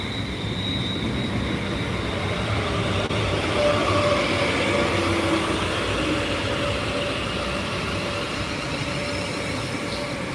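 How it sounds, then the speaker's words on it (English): Steady low rumble of a London train rolling into a platform, with a broad continuous roar and faint high squeal, holding level throughout with no voices. "this train that's about to arrive on the other platform might make a bit of noise"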